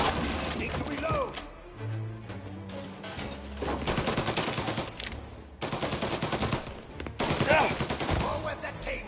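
Gunfire in the video game Mafia, bursts of shots and rapid fire in clusters with gaps between, mid-distance over game ambience, with talk heard in between.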